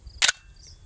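A single sharp crack from a Desert Eagle .44 Magnum pistol fired at body armor, brief and punchy against otherwise quiet surroundings.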